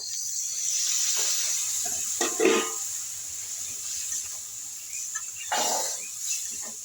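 Water poured into hot spices frying in a pan while cooking cluster figs, a few bursts of hissing and spitting steam that rise and fade over a low background hiss, no talk.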